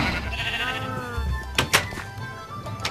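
Minecraft sheep bleat in a run of wavering, nasal cries that overlap, with a couple of sharper clicks near the middle and a steady low game background underneath, no talking.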